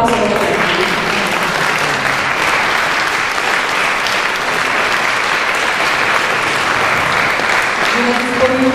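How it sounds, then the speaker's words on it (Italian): Dense, sustained applause fills a concert hall after a soprano and piano recital, a loud, even wash of many hands clapping without pause for several seconds. "Però l'applauso per te."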